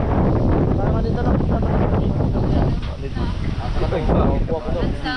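Steady wind buffets the microphone aboard a small boat at sea, a loud continuous rush with water noise beneath, while people talk faintly in the background.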